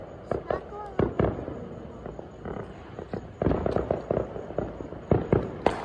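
Fourth of July fireworks show with repeated sharp bangs and crackling bursts, some near and loud, others distant, scattered irregularly with brief background voices between explosions.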